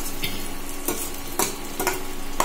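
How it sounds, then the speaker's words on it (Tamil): Food sizzling and frying in a pan on an induction stove, a steady crackle with a few louder stirring scrapes spaced through it, close and moderately loud with no talking. "ஒரு 300 ஓரளவு நல்லா வறுபட ஆரம்பிச்சுட்டது"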